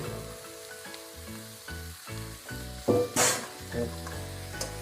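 Marinated chicken sizzles loudly as it hits a hot pan and is stirred, with a sudden burst of hiss midway, all over steady background music.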